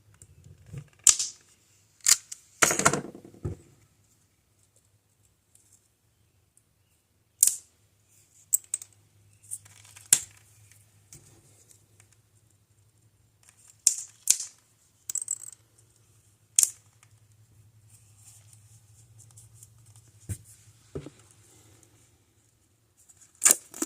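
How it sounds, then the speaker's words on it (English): Someone cuts open a cardboard box with sharp, scattered clicks and scraping snips spread unevenly through a quiet room, all close by and with no talking. "I'm trying not to cut myself or this box."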